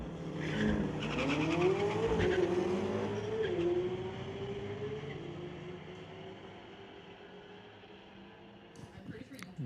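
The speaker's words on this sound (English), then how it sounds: "Nathan back up here in the 2024 McLaren, taking down Mike Nassy in that 2000 Honda Civic." Drag race pitting a 2024 McLaren against a 2000 Honda Civic on a street-legal night at Mission Raceway Park: a loud engine howl rises and falls as cars launch and pull away, fading into the distance, with an announcer talking over it.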